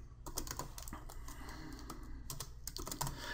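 Quick, close clicking of keys on a computer keyboard, an uneven run of light taps with short pauses, heard alone at low volume.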